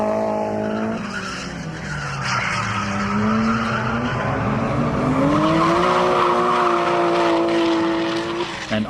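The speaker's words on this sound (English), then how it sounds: "This JZX 110 was one of the more expensive cars here" Toyota JZX110 drift car fitted with a big IHI turbo sliding around Nikko Circuit, its engine note rising and falling through the slide while tires squeal loudly and steadily for the whole stretch.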